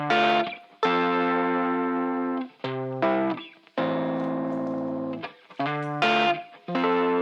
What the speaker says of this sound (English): So you still have the distortion sound, but you don't have the harsh frequencies anymore